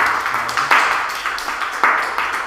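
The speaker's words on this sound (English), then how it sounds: "Let's give another round of applause." Audience at a small talk event giving a round of applause, a modest group clapping with sharp, distinct individual claps close by, steady across the short span.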